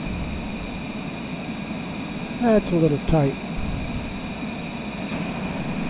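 Jet engines of a Cessna Longitude business jet whine in a steady cabin drone during flight, with a brief spoken remark over the hum.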